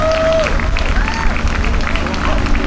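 Crowd applause for a speaker at an outdoor anti geo-engineering rally at Hyde Park/Marble Arch, London, a dense steady clapping with crowd babble and a raised voice over it.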